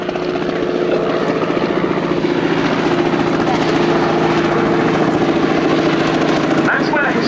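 A 1957 Bristol Sycamore Mk.52 helicopter, a former Luftwaffe transport, runs at an air day display, giving a steady, loud rotor and engine drone with a rhythmic blade chop throughout.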